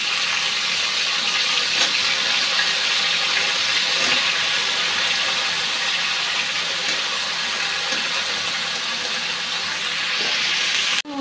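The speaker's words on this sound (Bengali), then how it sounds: "বেগুনগুলো এখন ভাজতে দিয়ে দিচ্ছি।" Eggplant slices fry in hot oil, sending up a steady, close hiss and sizzle that runs unbroken and fairly loud until a sudden stop at the end.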